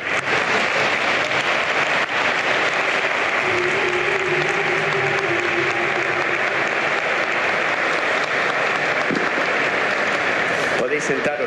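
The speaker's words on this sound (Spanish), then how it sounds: "yo creo que podemos darles un aplauso" Crowd applause inside Almudena Cathedral in Madrid during a Real Madrid Champions League celebration, a broad, sustained wash of clapping filling the large reverberant space, with voices mixed in underneath.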